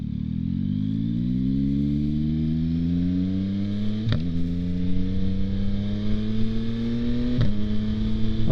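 A 2025 Yamaha MT-09 Gen 4 with a Kelpi Flanker exhaust pulls hard under steady throttle, its engine note climbing, then snapping down and rising again at two quick shifts, loud and close with no talking.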